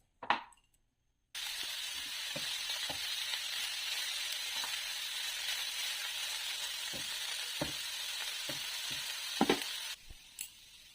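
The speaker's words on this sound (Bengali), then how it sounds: "এবার একটা ফ্রাইং প্যানে কিছুটা সর্ষের তেল নিয়ে একটা তেজপাতা, পেঁয়াজ কুচিটা ভেজে নেব।" Chopped onion and a bay leaf fry in mustard oil in a frying pan, a steady close sizzle with occasional stirring clicks and taps, beginning after a short quiet knock and fading at the end.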